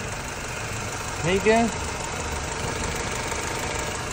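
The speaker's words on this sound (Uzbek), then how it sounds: "motor normalni qaltirab turibdi" A new Chevrolet Cobalt engine idles roughly and shakes after being incorrectly programmed. It gives a steady, low mechanical drone at close range, and someone briefly speaks over it partway through.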